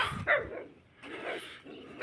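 Several dogs bark in short bursts in a backyard garden in Saudi Arabia, the yaps loud and close with brief gaps between them and no talk over them.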